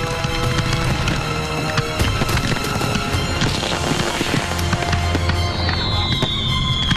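A Berlin fireworks display pops and crackles continuously, dense rapid bursts and booms layered over one another with a whistling streak near the end.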